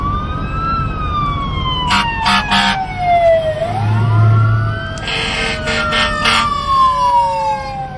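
A wailing fire truck siren sweeps up and down, loud and continuous, with a second horn-like wail blasting in short bursts over low rumbling traffic.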